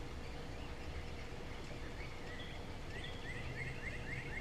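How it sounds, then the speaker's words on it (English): Quail and other birds calling at dawn in a backyard, faint chirps and calls rising late in the stretch over a steady, dense background hiss. "I'm listening to the morning sounds, listening to the quail and the other birds."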